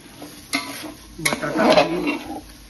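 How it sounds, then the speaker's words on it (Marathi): Potatoes for pav bhaji are stirred in a pan, with a few scraping strokes and soft clinks of a spatula against metal over a low sizzle, close and fairly loud. "बटाटा खाली न लागू देता आपण त्याला प्रत्येक वेळी थोड्या वेळानं कंटिन्यू हलवायचं आहे"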